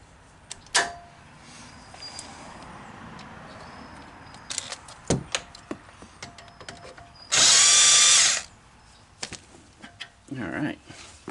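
On 2018 Chevy Silverado brakes, a 19mm bolt is worked loose, with a loud buzzing tool burst of under a second amid scattered metallic clicks, taps and clanks close by.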